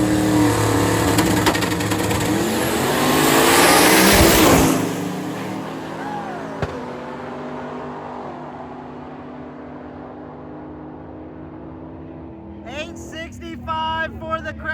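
A Crown Vic and a Camaro drag race at a drag-and-drive event. Engines roar and rev hard, building to a loud burst before fading away. Voices speak near the end.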